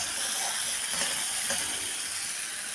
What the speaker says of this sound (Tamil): இப்போ இந்த எண்ணெய் இது பொரிஞ்சிருச்சுங்க. இதில் மசாலா சேர்த்துக்கலாம்.